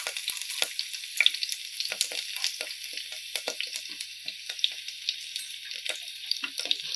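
Finely chopped ginger, green chilies and asafoetida sizzle in hot oil for Gujarati dal dhokli, a steady crackling fry with intermittent scraping stirs running throughout, close and without talk.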